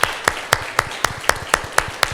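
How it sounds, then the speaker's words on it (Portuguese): Rhythmic clapping in a church service, about nine loud, even claps spaced roughly a quarter second apart, close and steady with no talk over it. "Dê um aplauso ao Senhor."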